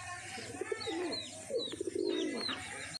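A pigeon gives soft, repeated low coos close by, several short rounded calls over three seconds, with faint higher chirps in the background.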